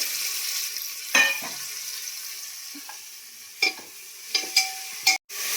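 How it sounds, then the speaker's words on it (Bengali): Onions frying in a thin layer of oil inside a pressure cooker: a soft, steady sizzle with a few sharp stirring clinks and scrapes against the metal, close by and with no talking. "কুকারের মধ্যে কিছু পেঁয়াজ ভাজবো"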